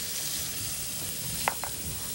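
Bacon and onions frying in a pan for feijoada give a steady, even sizzle throughout, with a couple of brief utensil clicks near the middle.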